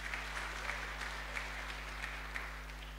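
A church congregation applauds the praise and worship team during a Holy Communion service, steady dense clapping filling the hall from start to finish over a low constant hum.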